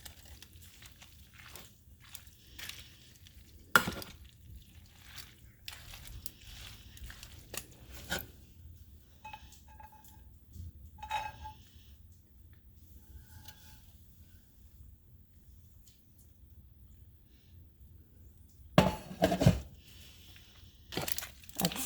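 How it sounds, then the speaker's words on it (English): Pasta being stirred together with baked feta, tomatoes and garlic, soft quiet squelches and scrapes of a utensil in a dish, coming in sparse bursts with a louder stretch of mixing near the end. "you just mix this very well with the feta and the tomatoes and the garlic"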